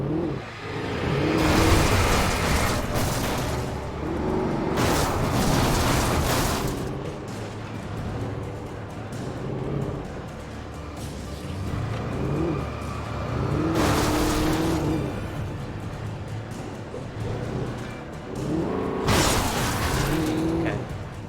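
A car driving in the video game Alan Wake, its engine droning and surging in repeated waves with mechanical rattles and thumps, fairly loud and close throughout.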